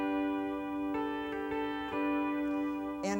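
A short melodic phrase on a sustained, gliding steel guitar, a few notes ringing over one another and ending with a brighter plucked chord.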